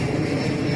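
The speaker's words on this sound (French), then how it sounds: "On laisse passer l'avion." An airplane passing overhead, a steady broad engine drone that holds even and fairly loud throughout this brief moment, with no talk.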